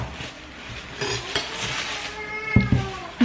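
A hungry house cat meows a few times close by, a short drawn-out cry near the end over faint clinks and household clatter, with no talking.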